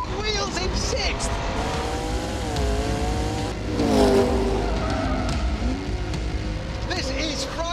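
A hypercar, one of a McLaren P1, Porsche 918 or Ferrari LaFerrari, spins its wheels at speed in sixth gear, its loud engine drone rising and sliding in pitch with tyre noise, while people talk over it.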